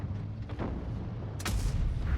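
A tank shell ricochets off armour in the mobile game World of Tanks Blitz, a sharp metallic impact and boom rising suddenly out of low battle rumble over about two seconds.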